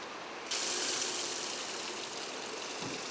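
Steady rushing water starts abruptly and keeps flowing in a broad hiss, like a tap running at full force nearby, with no talking.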